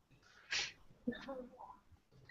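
A single short sneeze bursts out sharply, followed by quiet murmured voices.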